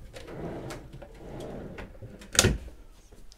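Storage drawers beneath a seating and desk area aboard a Lagoon 46 catamaran yacht slide and shut, with soft scraping and knocks followed by one sharper close.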